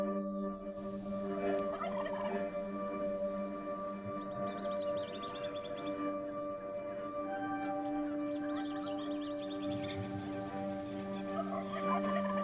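Rio Grande wild turkeys gobble from their roost about 300 yards away in California, the calls distant and faint but recurring over a steady background hum, with no talking.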